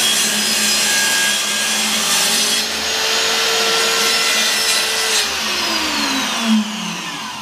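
Continuous rasping strokes of a saw cutting through wood clamped for a Piedmontese knife handle, close and steady, with rising and falling squealing tones as the blade bites deeper.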